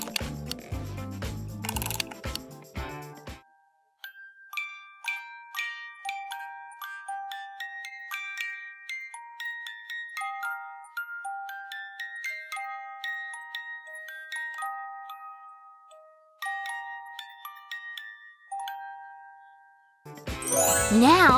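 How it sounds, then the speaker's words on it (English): A small wind-up music box mechanism plinks out a bright, tinkling melody of plucked metal notes, clear and close, with louder handling noises at the start and end. "A couple of turns and the music will start playing."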